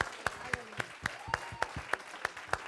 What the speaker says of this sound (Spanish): Denle un aplauso fuerte al Señor de la palabra.